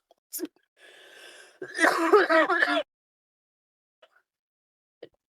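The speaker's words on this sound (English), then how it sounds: "Good coughing." Several short coughs and throat-clearing sounds close by, with a denser burst in the middle and a couple of faint isolated coughs afterward.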